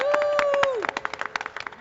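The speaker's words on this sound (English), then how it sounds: "everybody gave me applause" An arena audience at Welsh-Ryan Arena in Evanston breaks into brief, scattered clapping after a short tone, the claps coming fast and close for about a second.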